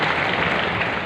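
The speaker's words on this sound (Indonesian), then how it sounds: "Tepuk tangan yang paling meriah." Brief, dense applause from a church congregation, a steady roar of many hands clapping at once throughout the short moment.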